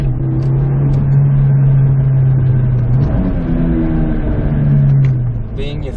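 A Toyota Celica engine fitted with a cold air intake hums steadily and then revs up and settles with rising and falling pitch, heard close and loud beneath someone talking.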